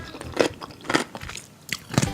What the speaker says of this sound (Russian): с почти блевотными, мерзкими, отвратительными, чавкающими звуками абсолютно стрёмная баба жрет огурцы